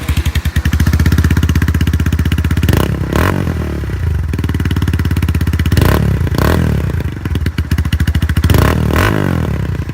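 An original Honda Grom fitted with a Yoshimura exhaust runs loud and close, idling with a steady low burble and blipped hard on the throttle three times into sharp revving bursts before dropping back.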